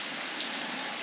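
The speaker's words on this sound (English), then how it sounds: "It's raining a lot." Heavy rain falls steadily in Barreirinhas, a dense, even hiss of drops on surfaces that continues unbroken throughout, fairly close, with no voices.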